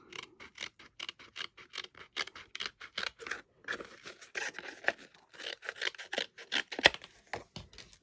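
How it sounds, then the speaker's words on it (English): Scissors cutting out a thin paper wording piece for a handmade card, a rapid steady series of close, crisp snips. "I'm just going to cut out this Delphinium wording at the top there."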